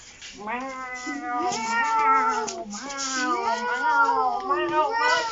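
A voice imitates a cat, drawing out a series of wavering, high meows one after another, clear and close.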